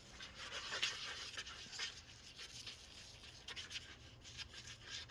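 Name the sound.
sanding a football helmet with a sanding block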